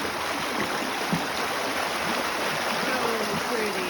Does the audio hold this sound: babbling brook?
yes